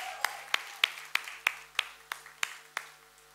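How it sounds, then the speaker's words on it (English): Clapping at a trailer launch event for the web series Bambai Meri Jaan: about ten crisp, evenly spaced claps in a steady rhythm, close and fairly loud over a low background hum. "No, we can quadruple that round of applause"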